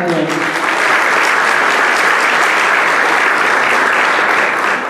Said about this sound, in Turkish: kocaman bir alkış rica ediyorum